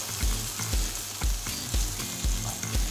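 Burger frying in a greasy pan, a loud continuous sizzle punctuated by a regular series of close thumping scrapes about twice a second, with no talking.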